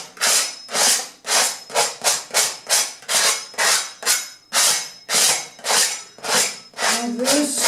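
Paint scraped away from an oil landscape painting surface, heard as a series of rhythmic, close rasping strokes, each a short burst, repeating steadily with brief gaps between them.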